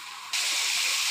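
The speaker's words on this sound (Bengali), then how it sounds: "দিয়ে দেবো রসুন বাটা, আদা বাটা, জিরা বাটা, শুকনো মরিচ বাটা।" Garlic, ginger, cumin and dried chili pastes dropped into hot oil, giving a sudden loud, steady hissing sizzle that starts abruptly after a short quieter moment and continues evenly.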